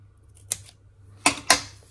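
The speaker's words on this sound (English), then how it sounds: "I'm just trimming it off so that it's level with the point." Scissors trimming the point of a paper star decoration: one crisp snip, then two sharper close cuts in quick succession against a quiet background.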